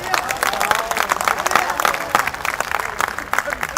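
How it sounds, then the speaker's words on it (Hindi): An audience at a poetry recital applauds, dense clapping with some crowd noise and voices mixed in, lasting a few seconds. "ताली बजाओ"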